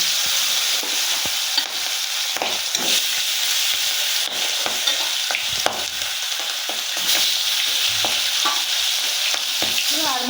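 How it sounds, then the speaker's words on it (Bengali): Fish sizzles and crackles steadily in hot oil, with scattered spits and pops and occasional scraping of a utensil, close by and without talk. "তেলটা গরম হয়ে গেছে এবার মাছগুলো আমি একা একা ভেজে নেবো"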